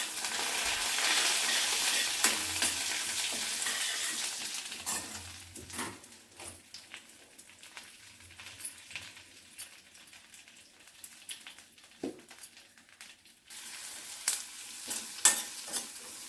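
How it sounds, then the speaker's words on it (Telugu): Urad dal, dried red chilies, mustard seeds and cumin sizzle and crackle in hot oil over a medium flame, with scattered pops and stirring scrapes, near and steady. "మీడియం మంటపై మాత్రమే వేయించుకోవాలి"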